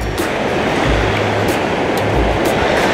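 Ocean surf rolls in at Ladder Beach, Saipan, a steady close wash of breaking waves with low rumbling surges, heard alone with no voices.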